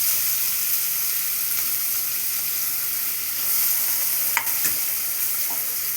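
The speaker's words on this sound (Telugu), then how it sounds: "కొత్తిమీర అండి, ఫస్ట్ నేను వేసేస్తాను. చూడండి మంచిగా కాలుతుంది." Fresh coriander frying in a pan for a village-style mango curry, a steady close sizzle and hiss with a faint clink or two of stirring, no talk.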